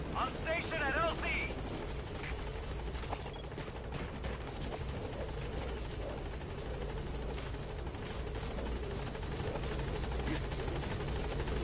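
In Metal Gear Solid V: The Phantom Pain, a helicopter hovers at a landing zone with a steady loud rotor whir and mechanical rattling, while radio-style voices talk over it.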